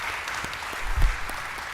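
Church congregation clapping for veterans at a Veterans Day concert, a brief steady burst of applause with a few distinct hand claps and a low thump partway through.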